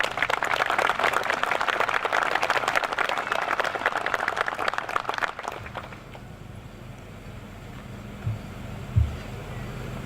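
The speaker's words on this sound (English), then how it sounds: "so I'd like to give them a round of applause." Outdoor crowd applause for firefighters at a September 11 memorial ceremony in Washington Lake Park, a dense loud burst of clapping that stops abruptly midway, leaving quiet ambience with a couple of faint thumps.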